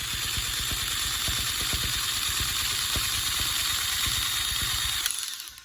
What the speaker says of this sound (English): this is the rug gun I use